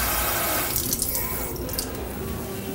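Cold tap water runs steadily into a container for mixing a cornstarch sauce, a continuous close splashing stream with small fluctuations and no talk.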